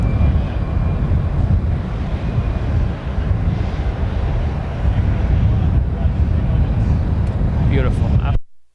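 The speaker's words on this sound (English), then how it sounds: "That was ANA 106 from Tokyo Haneda, and that's the Star Wars livery" ANA Boeing 787 jet in Star Wars livery arriving from Tokyo Haneda at Los Angeles airport, a loud continuous engine roar with wind buffeting that cuts off abruptly at the end, with a voice talking over it.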